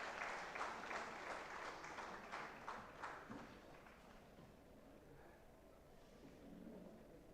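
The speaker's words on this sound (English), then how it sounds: "Now let us give a big round of applause to his visionary leadership and dedication to excellence." Applause at an awarding ceremony for a project director certificate: a crowd claps in a steady patter that starts moderately strong and slowly thins and softens, heard from some distance in a large room.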